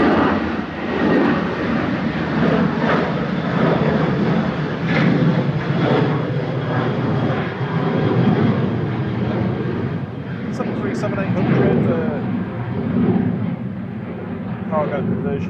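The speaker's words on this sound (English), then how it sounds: "737-800 cargo conversion aircraft GOHJK departing there." An ASL Airlines Boeing 737-800 cargo conversion jet departs Manchester Airport, with a steady loud engine roar sustained throughout and someone talking over it.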